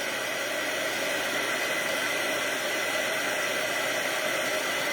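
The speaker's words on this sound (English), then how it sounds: "So then I have my heat tool here." A handheld heat tool blows hot air for craft embossing on a handmade card, giving a steady, close, even rushing hiss that holds unchanged for the whole stretch with no talking.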